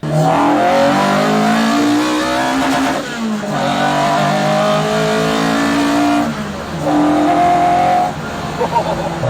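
A Mk4 Ford Escort RS Turbo accelerates hard and revs, its engine note loud and close, rising and falling through gear changes over roughly nine seconds with brief dips between pulls.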